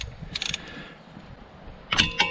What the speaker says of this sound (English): we're going to crack off the sump bolt, which is just here